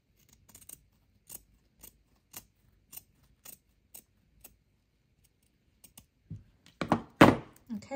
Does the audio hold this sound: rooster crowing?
no